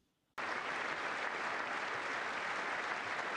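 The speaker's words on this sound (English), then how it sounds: "why are the Democrats standing and clapping for this?" An audience of lawmakers stands and claps, the applause starting abruptly after a moment of quiet and holding as a dense, even roar of many hands.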